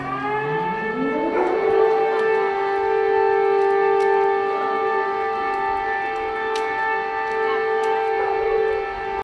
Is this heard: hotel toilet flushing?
no